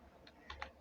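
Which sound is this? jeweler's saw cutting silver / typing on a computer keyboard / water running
typing on a computer keyboard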